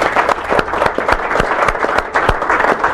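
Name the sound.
audience applauding at a press announcement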